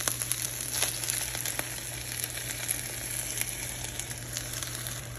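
Sausage, peppers and onions fry in a pan with a steady, close sizzle and crackle that runs the whole time, with occasional faint clicks and no voices.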